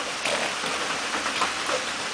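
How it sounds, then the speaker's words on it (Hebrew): Rain falls in a steady, soft hiss of drops hitting a surface, an even wash of noise from nearby with no voices over it. "יורד גשם"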